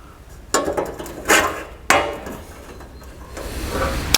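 Three sharp metallic clunks, spaced about a second apart, as welding magnets are stuck onto sheet metal during a seat box rebuild, close and loud with quiet gaps between.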